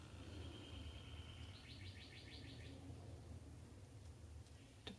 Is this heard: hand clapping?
no